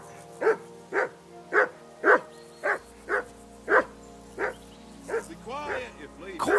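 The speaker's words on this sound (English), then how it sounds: "Do something with that mutt, Henry." Dog barking in repeated single loud barks at a steady rhythm of roughly two per second, followed by a few whimpering yips near the end.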